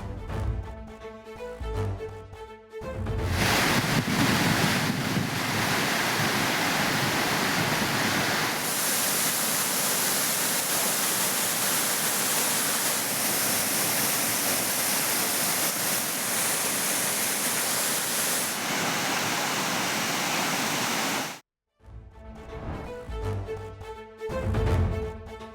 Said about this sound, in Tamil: கனமழையின் காரணமாக குற்றால அருவிகளில் நீர்வரத்து அதிகரித்துள்ளது